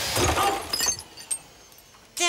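Drinking glasses shatter with a loud crash at the start, followed by scattered clinks of falling shards, then a second bright burst of breaking glass near the end.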